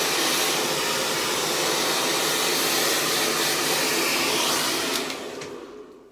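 Hair dryer blowing on hair, a loud, steady, close airy roar that holds evenly for about five seconds, then drops away and fades as the dryer is switched off.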